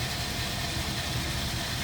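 A 1949 Ford Custom convertible's flathead V8 with 8BA heads idles smoothly, a steady, close engine rumble with an even low throb and no voices.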